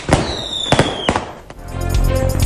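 Fireworks bursting at a wedding henna ceremony, several sharp loud bangs with whistling streaks, followed by a dense, rolling crackle of firecrackers that swells toward the end.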